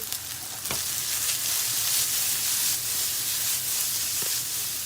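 Close, steady sizzle of hot oil frying after thyme is dropped into the pan, a continuous broadband hiss with a brief sharper crackle near the start and no talking.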